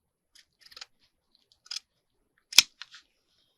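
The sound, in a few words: scissors cutting packaging on a diagonal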